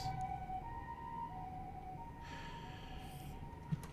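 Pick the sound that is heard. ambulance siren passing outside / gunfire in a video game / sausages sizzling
ambulance siren passing outside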